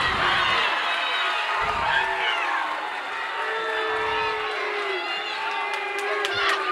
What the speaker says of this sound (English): they booing over here